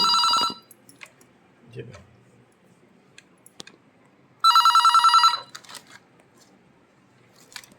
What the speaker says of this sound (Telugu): అది టెలిఫోన్ కూడా సిగ్నల్ వచ్చింది చూడు ఫ్రెండ్స్ రింగ్ అవుతుంది